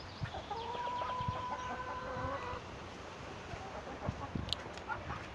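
A hen clucks in short, broken bursts alongside a higher drawn-out call, with scattered scratching and rustling nearby.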